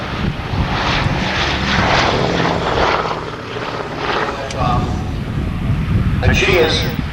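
Piston engines of a B-17 bomber at an RAF Honington airshow in June 1992, a steady loud propeller drone throughout, with a commentator talking over it.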